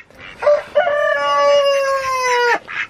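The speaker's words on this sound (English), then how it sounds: "Hey, chickens. Did you lay us any eggs today?" A single chicken gives a drawn-out, rising and falling squawk lasting a couple of seconds, close by, followed by a short cluck.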